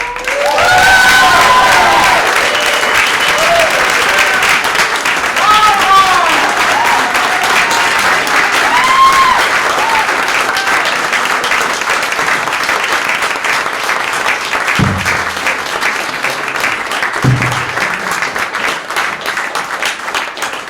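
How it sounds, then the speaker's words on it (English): Loud, sustained audience applause fills a Nuclear-Free Future Awards ceremony hall in 2023, dense clapping running steadily throughout with a few scattered cheers and brief voices near the end. "Please give a big applause to Ina."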